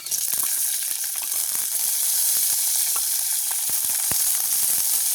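Onions and green chilies frying with fenugreek and fennel seeds in hot oil, giving a steady, loud, close sizzle with scattered crackles and pops throughout, no voices.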